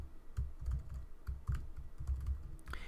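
Rapid clicking of keys on a computer keyboard while a URL is entered during a marketing software walkthrough, steady close-up taps over about three seconds with no talk.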